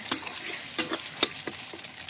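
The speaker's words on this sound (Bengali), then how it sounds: "এবার ডিম ফাটিয়ে কড়াই দিয়েছি, 3টে ডিম ফাটিয়ে একটু ভুজিয়া মতন করে নেব।" Three beaten eggs scrambled in a hot wok (kadai), with a low continuous sizzle broken by several sharp, close scraping strokes of a spatula at an uneven rhythm, no talking.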